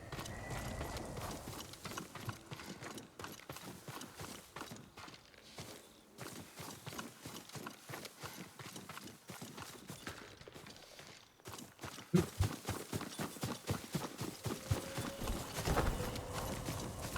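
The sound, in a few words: horse hooves clip-clopping, Ghost of Tsushima video game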